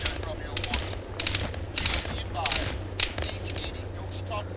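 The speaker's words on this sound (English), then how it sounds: "there's some bullets flying right by my head" Rapid bursts of gunfire crack repeatedly over a steady low hum in the military shooter game ArmA 3, with bullets whizzing close past the player, shots coming in clusters roughly every half second.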